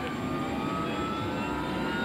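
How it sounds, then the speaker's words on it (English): Steady, loud engine drone from inside a flying military rescue helicopter, a constant whine and roar with no breaks. "Now we're in the helicopter flying towards the hospital."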